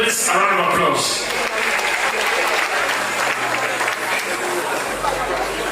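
Loud, dense audience applause at an official commissioning ceremony in Edo State, honoring the head of service, continuing steadily throughout with a faint crowd murmur and low hum beneath.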